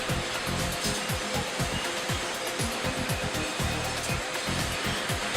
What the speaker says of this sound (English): Tons of garbage each day goes up these conveyor belts where man and machine work together to separate everything